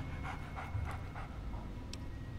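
Dogmeat, the dog companion in the video game Fallout 3, pants softly in a quick run of rhythmic breaths over a faint steady background hum.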